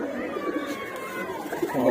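Restless pigeons in a loft give soft, steady cooing and rustling, close by, for a couple of seconds.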